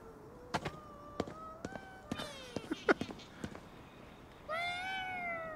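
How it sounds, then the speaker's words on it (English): A cat meows in the video game Ghostwire: Tokyo, a string of rising, tuneful meows between taps and knocks, ending in a longer drawn-out meow, with no talking. "That cat is like singing some weird little song"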